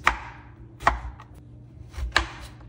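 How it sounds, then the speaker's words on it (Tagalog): Knife slicing peeled upo bottle gourd into thin strips on a cutting board, four sharp close chops at uneven intervals with soft scraping between. "Balatan ng upo na tinatawag rin na battle gourd at cut into thin strips."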